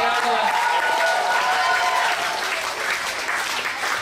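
Loud, dense applause from a children's camp audience at a counsellors' concert, a continuous wash of clapping with cheering voices mixed in, holding steady before easing slightly toward the end.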